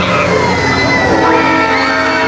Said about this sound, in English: Others are literally screaming with joy.